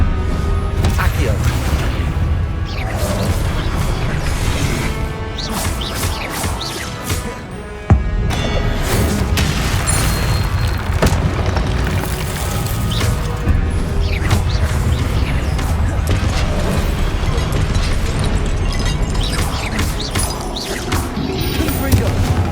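Confringo blasting spells in Hogwarts Legacy on PS5 crack and boom repeatedly amid combat whooshes and crashes, one sharp hit standing out, while a voice calls out spell names over the action.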